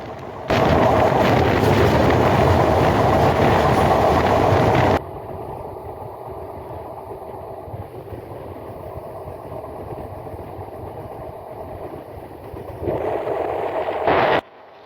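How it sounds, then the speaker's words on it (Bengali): The Ruposhi Bangla Express, running from Dhaka toward Jessore and Benapole at about 90 km/h, roars loudly at first, then drops to a steadier, muffled rumble before surging again briefly near the end. "এগিয়ে চলছে আমাদের ট্রেন প্রায় নাইনটি স্পিডে"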